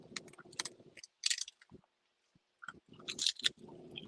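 Seaweed being chewed close up, with crisp crunchy bites and wet mouth sounds in irregular bursts separated by brief quiet pauses, along with an appreciative murmur.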